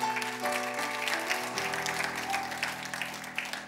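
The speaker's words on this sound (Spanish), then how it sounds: "Denle ese aplauso fuerte a Cristo." A church congregation breaks into loud, sustained applause, crackling claps over held keyboard chords that fade out and then change pitch.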